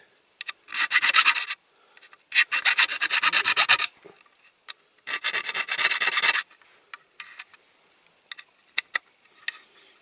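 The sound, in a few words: filing end of toy caravan jockey wheel axle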